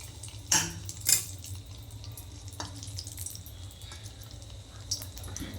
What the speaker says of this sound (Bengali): মা ব্যাটারের মধ্যে চুবিয়ে নিল, এখন দিয়ে দিচ্ছে তেলের মধ্যে।